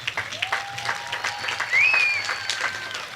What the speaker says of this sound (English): How about a round of applause for your families?